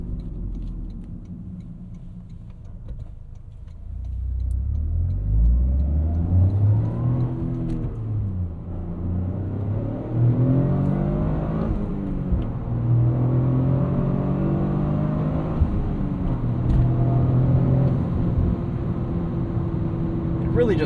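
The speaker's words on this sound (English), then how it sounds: "A couple little subtle pops and burbles here." A 2026 Toyota GR Corolla 300 hp hot hatch driving through the city in track mode, its engine rising and falling through revs with a droning rumble, while someone talks over it near the microphone.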